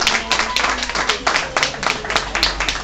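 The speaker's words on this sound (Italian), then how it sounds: "Facciamo un forte applauso" Applause at a gathering honouring a child's parents, with uneven bursts of hand claps from a small crowd, close and moderately loud, pulsing rather than steady.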